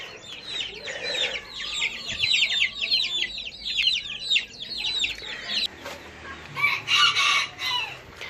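Chickens in a coop cluck and squawk in a busy, overlapping chorus close by, with bursts of louder calls near the end.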